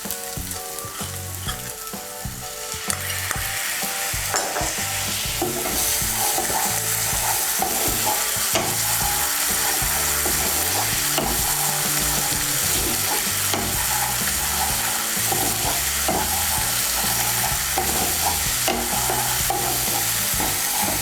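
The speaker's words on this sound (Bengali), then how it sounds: "পেস্টটা এর মধ্যে দিয়ে দিচ্ছি।" Spice paste of ground coriander and cumin dropped into a hot pan for egg bhurji masala, frying with a loud, steady sizzle and occasional stirring scrapes, close and alone throughout.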